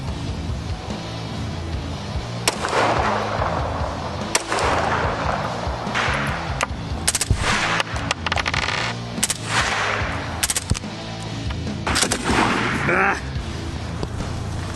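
Glock pistol shots among the weapons of the Kraken special forces unit: several sharp cracks scattered through loud, busy background noise, with voices talking throughout.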